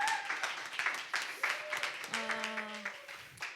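An audience at a women's prayer meeting claps, a steady patter of applause under a voice as a guest speaker is welcomed.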